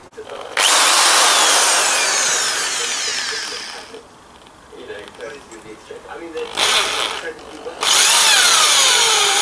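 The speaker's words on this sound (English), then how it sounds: "And I've got a drill." A power drill bores into wood to fit brass pins on a replica Bronze Age dagger, in two loud, close whirring bursts separated by a few quieter seconds.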